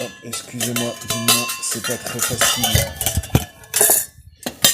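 A metal camping saucepan and its lid, which doubles as a plate, from a compact two-person cook kit in an evacuation bag, clinks and rattles in several bright metallic knocks while someone talks over the handling.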